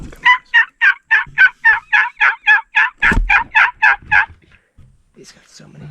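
Wild turkeys gobble loudly and close by, about fifteen rapid rattling calls in a steady rhythm. A faint rustle and quieter distant calls follow once they stop.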